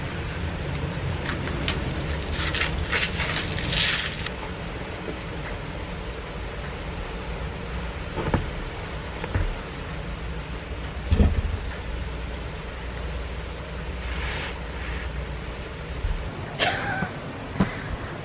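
Light rain sprinkles outdoors, a soft, steady hiss with occasional faint drips and thumps and a few scattered background noises, no talking.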